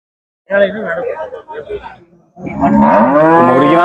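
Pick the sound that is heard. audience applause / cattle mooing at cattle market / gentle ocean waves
cattle mooing at cattle market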